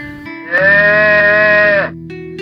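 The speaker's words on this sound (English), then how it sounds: "when she let out that moo," A sanctuary cow lets out a single loud, sustained moo lasting over a second, clear and close with no talk.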